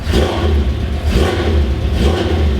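A classic Nissan Skyline Hakosuka engine revs repeatedly, the loud low roar swelling and easing in waves close by, with no talking.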